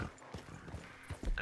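Hooves of a horse in Red Dead Redemption 2 clip-clop in a short, moderately loud run of uneven steps over a background game ambience.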